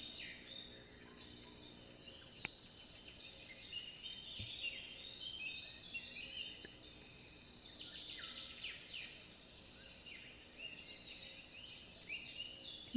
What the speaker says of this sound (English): let the music, the sound of the birds